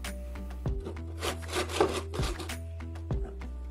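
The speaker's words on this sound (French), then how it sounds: "Coupez une grande bouteille en plastique et faites 4 trous à 2 de chaque côté." A large plastic bottle is cut in a rough sawing, scraping motion, several strokes close up over a steady low hum, with no voices.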